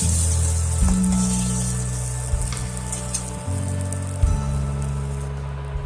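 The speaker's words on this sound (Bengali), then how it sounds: "দেখতেই পাচ্ছেন আমার মাছটা ভাজা হয়ে গেছে।" Small chara pona fish fry in hot oil in a pan, giving a steady, close sizzle with crackling spits throughout and no voices.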